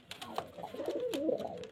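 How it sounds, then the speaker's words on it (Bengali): Giribaj pigeons in a Murshidabad flock, including females about to lay, coo in a close, continuous warbling rumble that swells and overlaps with no voices. "পায়রা অনেক পায়রা আছে।"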